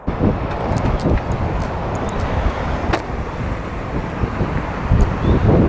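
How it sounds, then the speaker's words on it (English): Wind buffets outdoors on a golf course, a continuous rushing roar with gusty swells, heavy and close against the microphone, with no talking. "You can really tell the wind's blowing now."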